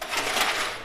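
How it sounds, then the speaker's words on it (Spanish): Coins clatter and jingle as they drop in an arcade coin pusher machine, a quick burst of bright metallic clinks close up with no speech. "Cada moneda tira otras monedas, haciendo que los billetes y todo lo demás se hagan más hacia enfrente."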